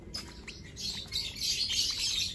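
Young lovebird chicks from a recent hatch chirp continuously in a high, busy chorus, close by and fairly loud over a low background rumble.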